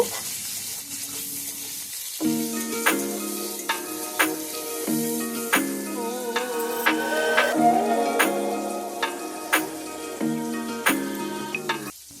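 Diced potato fries in a pan of hot oil for a savory semolina halwa, giving a soft continuous sizzle broken by regular sharp clinks and scrapes of a spoon stirring against the pan, with no talking.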